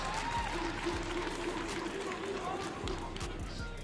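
A live crowd at a Call of Duty League Major 2 esports event in Miami roars steadily in the arena beneath excited commentators talking over the noise.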